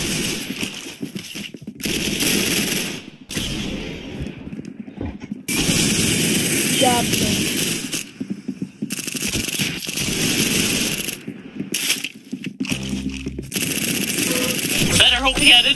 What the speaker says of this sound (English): I'm literally shooting right at your head.